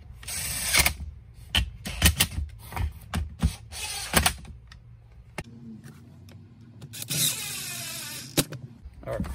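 Handle screws being fastened on a Stihl MS250 chainsaw under repair: a close series of sharp clicks and ratcheting taps in irregular bursts, followed by a steadier grinding run and more knocks, with no talking.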